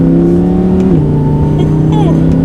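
A 2020 Audi R8 V10 Quattro engine rises under light throttle, a loud steady drone climbing in pitch partway through, with road noise throughout while driving.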